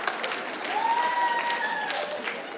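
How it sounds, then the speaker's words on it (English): Comedy club audience clapping steadily for about three seconds, a dense even patter with a faint whistle or voice rising through it, no one talking over it. "I see some of you guys clapping."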